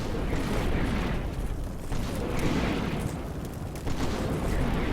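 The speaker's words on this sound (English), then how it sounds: "Looks like just airburst rounds" Airburst artillery rounds burst repeatedly in the modern warfare game Combat Mission Shockforce 2, a dense rumbling barrage of booms and distant gunfire rolling on without pause.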